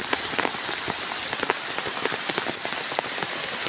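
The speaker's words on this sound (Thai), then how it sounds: "มันเป็นฝนนะฮะ" Steady rain patters densely on a surface in a sugarcane field, heard from under a tree, with many quick drops tapping close by and no voices.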